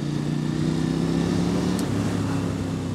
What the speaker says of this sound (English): So this is a KTM 890 Duke R.